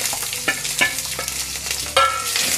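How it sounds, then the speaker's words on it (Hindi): Long-sliced onion frying in oil with a bay leaf and two dried red chillies, sizzling loudly and close while a spoon stirs and scrapes the pan in several sharp strokes. "प्याज को मैंने अच्छे से भून लिया है।"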